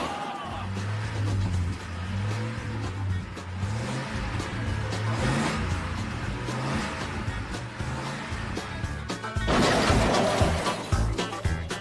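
A monster truck's engine growls and revs through a stunt show, steady low rumble with rising pitch swells and a louder surge near the end, amid arena noise.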